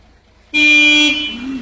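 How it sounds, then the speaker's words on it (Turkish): A single loud truck horn blast sounds abruptly after a moment of quiet, holding steady for about half a second before wavering and trailing off. "Abi sen bir kornaya bassan onu."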